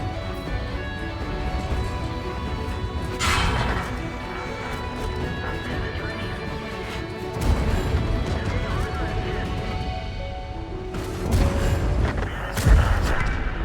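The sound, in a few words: Prototipo 6 tank cannon firing its clip, World of Tanks video game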